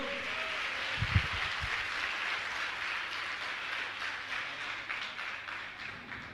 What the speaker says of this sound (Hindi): ताली तो बजाओ आप लोग